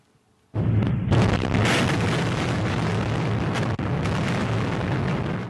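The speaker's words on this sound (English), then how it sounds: "Russia's military delivering its daily barrage of destruction to Ukraine." A sudden, loud, roaring blast from a Russian military barrage in Ukraine breaks the silence and rumbles on for several seconds as a sustained, heavy explosion with no voices.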